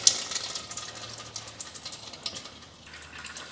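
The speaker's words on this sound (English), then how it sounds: "So it's a pretty messy drip out." Gearbox fluid drains from a Chevrolet Cruze into a catch pan, giving a faint, uneven trickle with small spattering drips close by.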